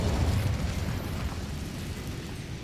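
Incendio fire spell cast in the video game Hogwarts Legacy: a loud, roaring burst of flame with a deep rumbling low end, sustained and slowly fading over a couple of seconds, heard alone.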